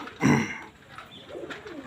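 A pigeon gives a soft, throaty coo close by, followed by a fainter, lower murmur of cooing.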